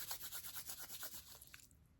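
Slow, rhythmic rubbing and squeezing of skin by hands during an ASMR massage, soft close-up friction strokes repeating steadily, then tapering off near the end.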